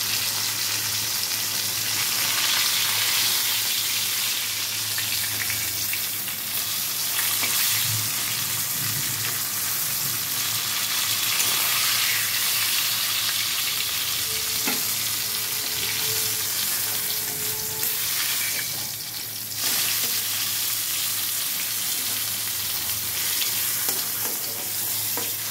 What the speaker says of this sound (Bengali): দেখো মাছটা কিন্তু একদম লাল করে ভাজা হয়ে গেছে